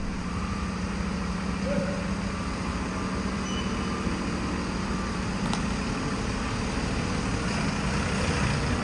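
A Mercedes-Benz 1623 tour bus engine idles directly beneath the floor, a steady low rumble and hum that continues evenly and fairly loud inside the cabin with the door still open.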